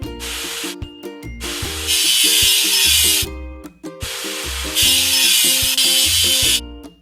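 A rust-removal tool at work on a machine in a kids' construction video game, heard as loud hissing, scrubbing bursts over a bouncy stepped music track.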